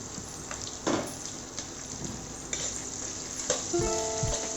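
Dried red chillies sauté in a pan with onions, a continuous close sizzle with a few spatula scrapes and knocks spread irregularly through it.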